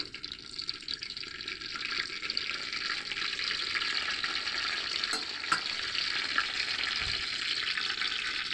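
Goja sweets deep-frying in a pan of oil, a continuous moderate bubbling sizzle with small pops and a faint clink near the end, no talk.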